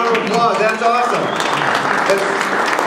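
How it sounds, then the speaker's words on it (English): A crowd at a fishing expo breaks into applause for an angler, dense clapping close by and fairly loud, with a voice speaking at the start. "Give her a big round of applause."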